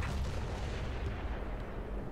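The big gun of a Taran tank with a muzzle brake booms in War Thunder, with a deep, heavy blast rumbling and fading across the whole short moment.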